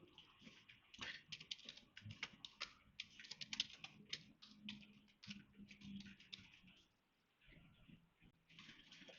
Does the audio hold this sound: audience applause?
no